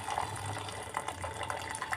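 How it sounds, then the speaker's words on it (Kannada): Cooking water is poured off boiled greens and lentils, a steady broadband splashing and gushing that runs evenly and close throughout, with no voices. "ಈಗ ಇದರಲ್ಲಿರೋ ನೀರೆಲ್ಲ ಬಸ್ಕೊಳ್ಳೋಣ ನಾವು."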